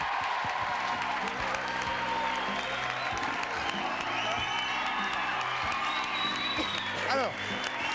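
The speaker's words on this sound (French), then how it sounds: "Sophie Favier sous les applaudissements de la foule." A TV studio audience on a French variety show applauds steadily throughout, a dense sustained wash of clapping with some cheering, while music plays underneath.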